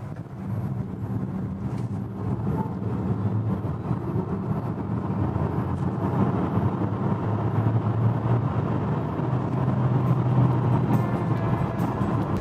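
MG HS Hybrid 1.5 plug-in hybrid pulling hard from a standstill in sport mode, heard from inside the cabin as a steady, loud engine and road roar that holds throughout with no talking.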